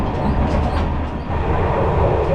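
Royal Blossom luxury tourist train running on rails in Thailand, a steady, loud rolling rumble and rattle of the carriage with no clear clacking beats, continuous throughout without talk.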